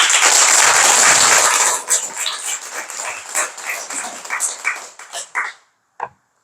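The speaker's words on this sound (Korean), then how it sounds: "박수라고." A hall audience at a Buddhist monk's Dharma talk applauds loudly and densely at first, then the clapping thins into scattered, uneven claps that die away to silence, with one last lone clap.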